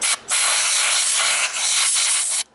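A blast of compressed air blows debris off a GM truck's knock sensor module, a loud, close, steady hiss lasting about two seconds after a brief opening puff and short gap.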